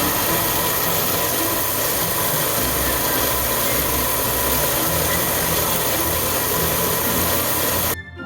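Steady, continuous rasping and sanding of a Baldwin piano hammer being trimmed, close and loud, running without pause for about eight seconds before stopping abruptly.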